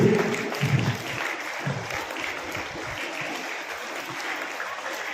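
Audience at a school event applauding a student and her mother, dense steady clapping that starts a bit louder and settles into an even wash, some voices mixed in.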